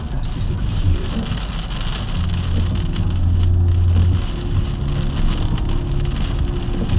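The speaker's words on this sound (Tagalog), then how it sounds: "Lakas ng ulan." Heavy rain pelting a roof and surfaces in a steady, dense downpour, constant and enveloping, with a low engine-like rumble underneath and no speech.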